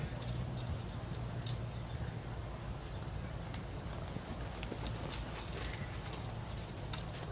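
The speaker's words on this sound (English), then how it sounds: "ranch horse riding" Horse hooves clip-clopping steadily in a ranch horse riding class at a horse show, a faint, even rhythm under a constant background hum of the arena.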